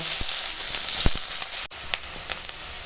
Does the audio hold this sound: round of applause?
no